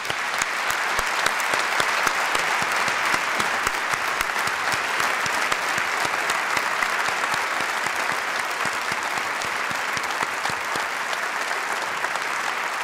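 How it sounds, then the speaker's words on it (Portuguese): A large audience at a Portuguese authors' award ceremony gives a long, strong round of applause in solidarity, dense even clapping that holds steady with no voices on top. "uma forte salva de palmas de solidariedade e força"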